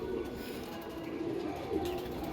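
Semi-adult red pigeons kept in separate coops coo softly in a low, repeated murmur, close by and faint against a quiet room.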